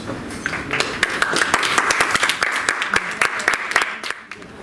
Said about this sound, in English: Great applause for David Tena, representing second A class.